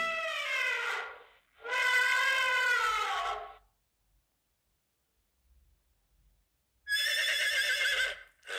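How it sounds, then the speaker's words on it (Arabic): Horse neighing: two loud, high whinnies in quick succession, then a short pause with faint low rustling before a third whinny rises, all close and clear with no talk. "أيضا صوت الحصان غليظ."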